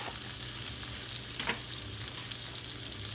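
Onions frying in butter in a pan for a seafood rice, a steady close hiss and crackle that holds throughout with a brief stir midway and no talking.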